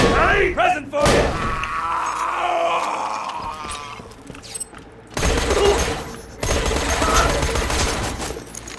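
Rapid gunfire from Borderlands 2 erupts in loud, dense volleys: a burst at the start, a sustained stretch of shooting, then another heavy barrage in the second half, with brief quieter gaps between.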